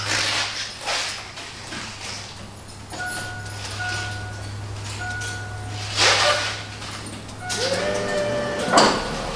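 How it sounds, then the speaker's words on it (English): The power rear window of a 1988 Ford Bronco rolls down with a steady whirring motor hum, accompanied by intermittent creaks and squeaks, clunks of the glass and tailgate, and a continuous low background drone. "we're going to go ahead and operate the window. It is a power rear window."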